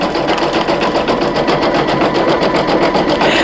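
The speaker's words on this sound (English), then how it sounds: "it's just gonna do the satin stitch" Single-needle embroidery machine stitching a satin stitch on an appliqué heart patch, a loud, steady rapid whirring hum with fast needle pulses, close up and uninterrupted.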